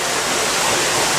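A 2-inch water pump pushes water during a flood door test, giving a loud, steady rushing gush of flowing water that fills the whole moment without a break.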